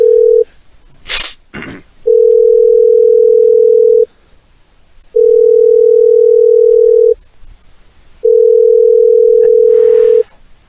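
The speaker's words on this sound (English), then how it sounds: "That was me trying to call up a Gupta" A telephone line gives a ringback tone while a call is being placed, three long steady beeps separated by pauses, loud and close, with a couple of short clicks near the start.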